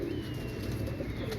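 A Dub Walay pigeon coos softly in a low, rolling murmur over steady background noise, with no talking.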